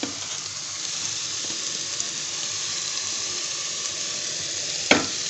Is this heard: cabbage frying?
yes